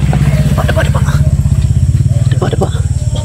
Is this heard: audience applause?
no